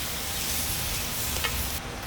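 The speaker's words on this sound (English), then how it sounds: "You hear it? It's sizzling." Avocado oil sizzles on a hot cooking surface, making a steady, close hiss with a brief scrape near the end.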